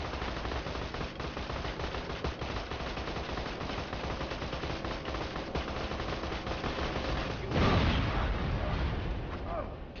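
Rapid bursts of gunfire from shooting in the video game Borderlands 2, dense and continuous, ending in a louder blast-like burst near the end.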